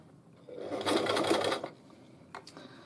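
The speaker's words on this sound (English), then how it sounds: "Trying to keep the stitch close to the edge as well, to the edge of the band." A sewing machine stitches a jersey knit hair band close to the fabric edge in one short burst of buzzing that runs for about a second, loud against a quiet room, then stops.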